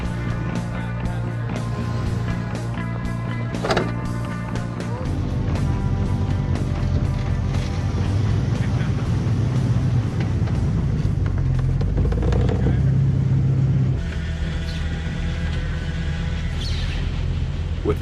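An off-road vehicle drives a lap around a dirt track at Hollister Hills OHV Park, its engine a continuous loud, close rumble that rises and falls with throttle, a faint voice briefly under it.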